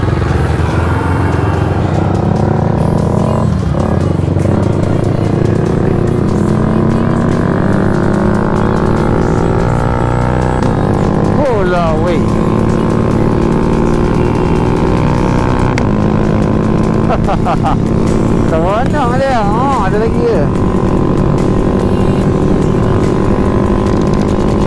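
A Yamaha LC135 V1 motorcycle with a leaking water pump seal drones loudly and continuously on a test ride, its engine pitch rising and falling through the gears over heavy wind noise, with no talking.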